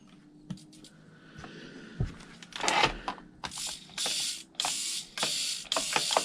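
A rare vintage Kyosho RC car, unused for about ten years, is switched on. Its servos give a series of short mechanical whirring and clicking bursts, irregular at first and then in a more regular run of pulses.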